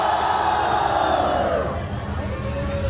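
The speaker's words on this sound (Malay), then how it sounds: "Kita dengar jeritan daripada lelaki dahulu." Men in a concert audience shout and cheer together, a loud, sustained roar of many voices that swells and holds for a few seconds.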